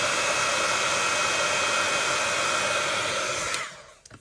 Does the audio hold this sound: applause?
no